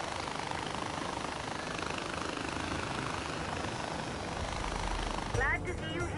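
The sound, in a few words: helicopter in the video game Far Cry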